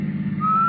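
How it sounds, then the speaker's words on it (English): A man whistles while he works in a radio drama, heard from the back seat of a car: a single sustained whistled note rises out of a low rumbling background partway through and holds to the end. "Al whistling while he worked."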